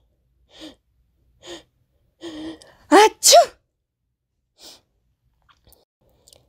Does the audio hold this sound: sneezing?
yes